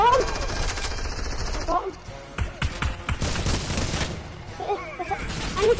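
Gunfire from a sniper in a multiplayer shooter video game, sharp cracks and bursts scattered through the clip, with excited voices talking over the shots.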